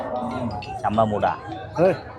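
A cow at the Rajshahi city cattle market gives several close, drawn-out moos over a low murmur of crowd chatter.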